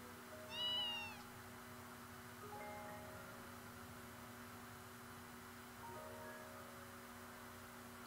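A cat meows in the video game Fragile Dreams: Farewell Ruins of the Moon, one clear rising-falling meow early on, set over a steady hum and soft ambient game tones.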